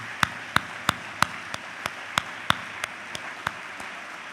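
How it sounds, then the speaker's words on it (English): Meeting audience at a divisional faculty gathering claps in a slow, evenly spaced rhythm of about a dozen distinct claps, fairly faint and distant, with no talking over it. "Let's give you a round of applause."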